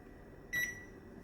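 A single short electronic beep sounds as an oven timer is set during meal prep in a kitchen, clear and close, with a quiet room around it.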